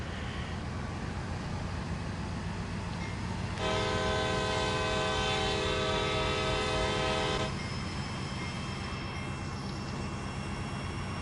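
A CSX C40-8W diesel locomotive runs at full power in Train Sim World 2, with a steady, loud engine rumble throughout and a sustained horn blast of about four seconds in the middle.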